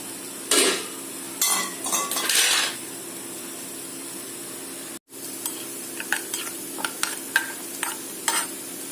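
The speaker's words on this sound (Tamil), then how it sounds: "கொஞ்சமாக நெய் விட்டு நெய் காஞ்சதும் முந்திரியை சேர்த்துக்கலாம்." Cashews frying in a little hot ghee for coconut milk pulao, heard as soft sizzling with intermittent stirring scrapes and light pan clinks, a short break mid-way, then sparse taps; no voice.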